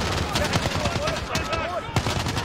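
Rapid bursts of gunfire crackle over a busy Call of Duty: Modern Warfare game soundscape, with a voice talking underneath the shots.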